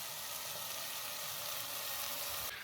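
Spices with chili and garlic sizzle steadily in a hot pan, a continuous close frying hiss with no talking.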